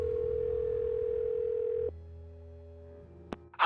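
A phone call in the game Nancy Drew: The Phantom of Venice plays a steady, faint tone that cuts off and gives way to a lower hum, followed by a brief click, with no talking.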